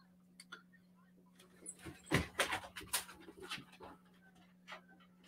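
A dog indoors panting and whimpering, a cluster of quick excited breaths and snuffles in the middle, faint and close, over a steady low electrical hum.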